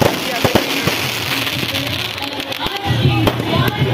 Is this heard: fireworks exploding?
yes